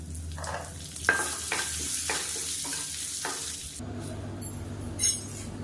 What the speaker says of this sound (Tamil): இப்போ இதில் கடுகு சேர்த்துக்கலாம், கொஞ்சமாக உளுந்து சேர்த்துக்கலாம், கருவேப்பிலையில் சேர்த்துக்கலாம்